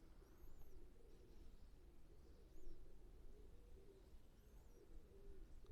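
Soft, low cooing of a flying pigeon repeats steadily in a quiet outdoor setting during a pigeon flying competition, with faint chirps from other birds in the distance.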